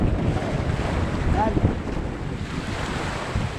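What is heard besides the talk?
rough sea waves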